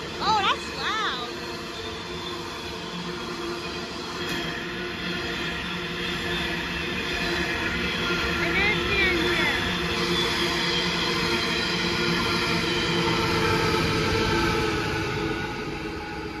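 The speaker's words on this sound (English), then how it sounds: "that's three freight trains I saw today" Freight trains pass at a trackside station in Thirroul, a loud, continuous rumble of rolling wagons with wheel squeals and rattling steel that carries unbroken for the full length, with a brief horn-like tone near the start.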